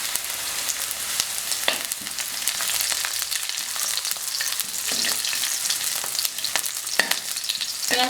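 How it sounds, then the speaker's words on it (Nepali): Green chilies sizzle in hot oil for Nepali-style egg chow chow soup, a continuous close frying hiss broken by sharp crackles and pops throughout, with no voices. "अब म यसमा खुर्सानी राख्छु।"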